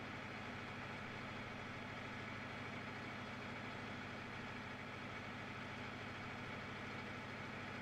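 A truck engine from a modded video game idles steadily at a low, even rumble. The drone is constant and quiet, with no voices.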